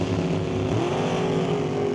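A drag race pairing a dragster with a Tri-5 Chevy: a loud, steady engine roar that climbs in pitch partway through, with no one talking.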